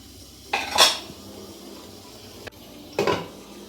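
A metal lid clatters onto a pot of chicken biryani, two distinct clanks about two seconds apart with a small click between them, close and fairly quiet.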